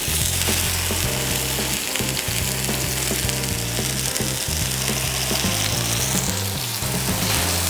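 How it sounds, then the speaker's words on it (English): A cod fillet fries in hot oil in a pan with a steady, loud, close sizzle and crackle that never lets up, with no one speaking. "remove the fish from the package. And place it right onto the hot oil"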